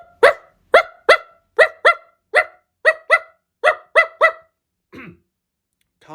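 A loose dog barks repeatedly, about a dozen sharp, close barks in a quick irregular rhythm, followed by a couple of softer whines or yelps, with no talking.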